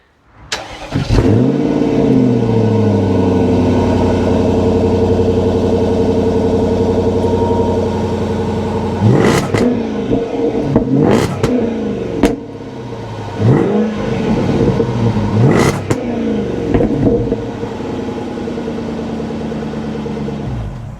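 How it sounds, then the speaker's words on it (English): A supercharged 5-litre V8 in a Jaguar XJR starts up and idles loudly nearby, then gives a series of sharp, rising revs in quick bursts with a deep mechanical roar and no talk. "the Jaguar XJR is a bit of a beast. It's a 5-litre V8 supercharged"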